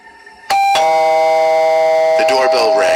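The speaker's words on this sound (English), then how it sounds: "The doorbell rang, so I took the orange bucket and brought it to the door and opened it." A doorbell chimes loudly, two electronic tones ringing out and sustaining, followed by a shorter second ring near the end.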